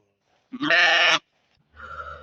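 Sheep offered for sale bleat loudly and close, one long strained call followed after a brief pause by a second, lower and softer bleat.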